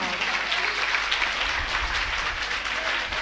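Audience applause fills a hall, a steady dense clapping from many hands held at an even, fairly loud level throughout, with no voices rising above it.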